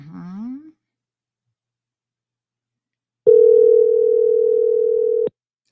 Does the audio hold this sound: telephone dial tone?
yes